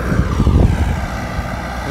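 A Sonalika 750 turbo tractor engine runs in a farm field, a loud, steady low rumbling drone with a slight surge partway through, heard alone without voices.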